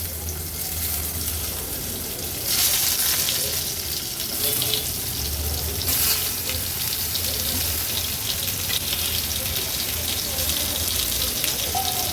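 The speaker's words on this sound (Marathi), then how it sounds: "ही वांगी आपण तेलावर सोडणार आहोत।" Stuffed white brinjals fry in oil in a pan over a low flame, giving a steady close hiss and sizzle that rises briefly as they go in, with faint background voices.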